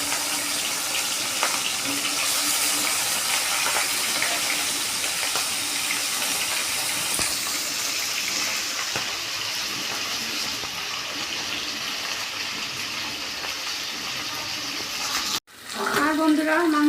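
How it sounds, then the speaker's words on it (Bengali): Chicken meat frying in hot oil for chicken kosha, giving a steady, dense sizzle that holds evenly for about fifteen seconds before a brief cutoff and a louder burst of sizzling at the end. "এখন আমরা মাংস ফ্রাই করে নেব।"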